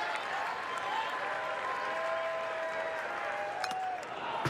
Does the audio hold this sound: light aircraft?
no